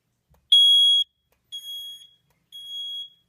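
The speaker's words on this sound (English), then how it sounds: "there's a buzzer on this, and it's definitely not synced up with the others" A Cosmo 2W buzzer, partly covered with tape, sounds during a fire alarm system test: three shrill high beeps, the first loudest and the next two softer and slightly longer, evenly spaced about a second apart in a quiet room.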